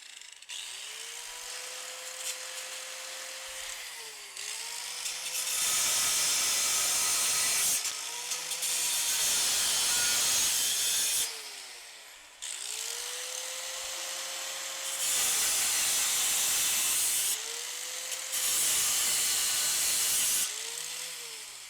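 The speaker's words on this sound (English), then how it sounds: "I have to cut this row of round stock out." A power tool cuts through a row of steel round stock on a CountyLine 25 ton log splitter, a whirring motor rising into loud harsh grinding bursts of several seconds each, separated by short lulls where the motor spins down.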